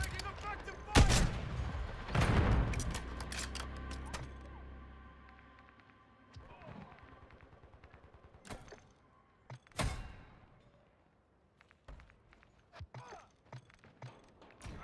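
Scattered bursts of gunfire from Call of Duty Modern Warfare Zombies, loud sharp reports clustered early then spaced out, mixed with game radio voice lines and thuds.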